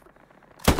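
A single sharp gunshot from the World War II shooter game Hell Let Loose, fired at walls, cracks loudly near the end after a quiet stretch of faint background murmur.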